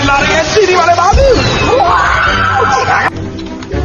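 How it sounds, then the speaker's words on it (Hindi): Several women scream and shriek loudly, high and wavering, over crowd babble and voices, with sliding cries that overlap throughout. "सारी हसीनाएं चिल्ला रही है"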